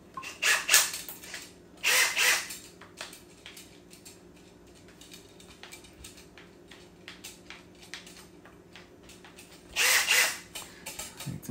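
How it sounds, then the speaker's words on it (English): A cordless drill, fitted with a stirring rod from a brew shop, mixes mead in short loud whirring bursts: two near the start and one near the end, with faint mechanical ticking between them. "cordless drill."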